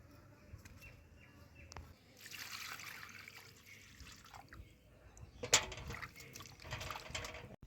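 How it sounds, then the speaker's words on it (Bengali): Tap water runs and splashes while cut Amudi fish are washed, faint and intermittent, with gushes swelling and fading and a few small clinks. "এবার মা এগুলোকে ধুয়ে নিচ্ছে"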